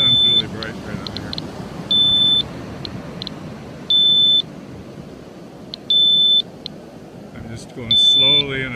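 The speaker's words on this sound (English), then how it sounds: "here you can hear the detector in the background going off" A radiation detector beeps in loud, repeated bursts at roughly even intervals, with chirps in between, over outdoor background noise and a voice.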